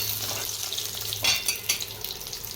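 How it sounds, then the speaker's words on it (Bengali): Potato pieces frying in hot oil until reddish-brown, for a fish-head and banana-flower dish: a steady close sizzle with a few scraping stirs and bursts of louder crackle. "আমরা আলুটাকে ভালো করে লাল লাল করে ভেজে নিয়েছি"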